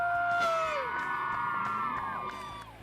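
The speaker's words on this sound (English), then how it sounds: "it's fun sometimes to hear the crowd around me" Spectators at a dirt track race cheer and whoop, with long rising and falling yells carried over a loud, steady crowd roar that eases off near the end.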